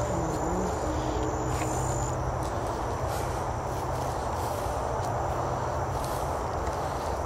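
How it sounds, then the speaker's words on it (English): Crickets and other insects chirp steadily at night in humid woods outdoors, a dense continuous droning trill with a high whine on top, filling the whole stretch with no talk. "See, there's a lot of bugs out here."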